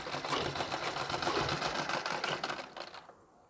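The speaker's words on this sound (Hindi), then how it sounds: "अब मशीन को चलाना है, बिल्कुल धीरे धीरे मशीन को चलाना है" A sewing machine stitching a blouse, running in a fast, even mechanical patter close by for about three seconds, then stopping abruptly.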